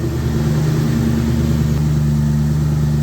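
A 2004 Ford Mustang Cobra engine idles steadily and a little high, a loud, continuous low rumble with an even tone throughout and no talking.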